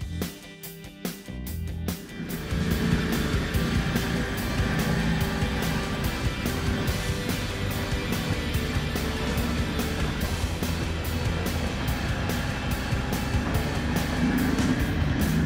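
An eight-wheel Argo amphibious vehicle drives off after a few clattery knocks, its engine settling into a loud, steady, close drone that holds unbroken.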